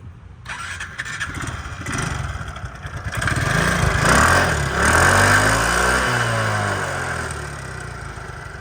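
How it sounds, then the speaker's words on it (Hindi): A Vespa SXL 150 scooter engine, about nine years old with 30,000 km, starts up close by, then revs up and settles into a steady, buzzing run with some rising and falling pitch. "इंजन की एक बार साउंड सुनाता हूँ।"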